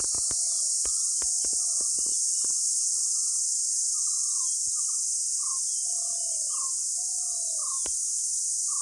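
Steady high-pitched cricket trilling fills the background of a morning forest near Golavashi, Lanja, with a few short bird calls and clicks scattered over it.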